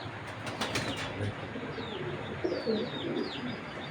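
A pigeon of a foreign fancy breed coos softly a few times amid faint wing flutters and light chirps, fairly quiet and close, with no one speaking.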